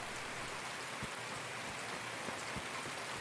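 Steady rain pours in the video game Escape from Tarkov, a dense even hiss with scattered louder drop impacts, continuous and fairly loud throughout with no voices.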